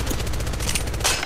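Rapid automatic gunfire from the Apex Legends video game rattles in loud, close bursts of repeated shots filling the whole moment, with no talking over it.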